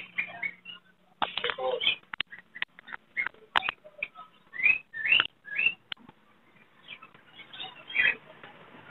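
A pair of lutino lovebirds at an outdoor bird market giving sharp, high chirps and squeaks in uneven bursts, close and clear, with brief quiet gaps between calls.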